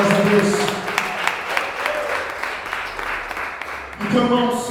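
Applause from a church congregation, broad continuous clapping blended with cheering voices and musical tones, holding steady before a sustained chord or voice swells near the end.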